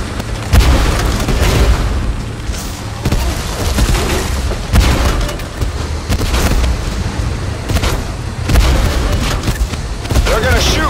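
In the Tank Force video game, tank cannons fire and shells explode in repeated heavy booms at irregular intervals, loud and dense, with a voice talking over the battle.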